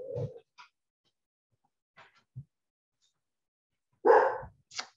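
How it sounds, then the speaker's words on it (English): Dogs bark in a few short, sharp bursts at moderate distance, with one at the start and a louder pair near the end, separated by quiet gaps. "Sorry, my dogs are going crazy."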